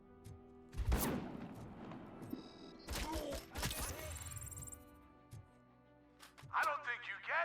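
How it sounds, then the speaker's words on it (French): Gunfire bursts in Robocop Rogue City, a few loud sharp volleys with heavy impacts and thuds spread across the moment, mixed with game effects and a voice near the end. "Ok, c'est une rafale."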